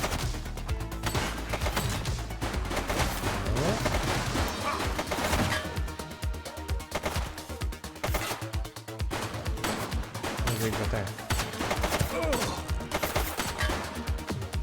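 Dense, loud shootout gunfire from the police game The Precinct: rapid bursts and overlapping automatic shots that keep up almost without pause for the whole stretch.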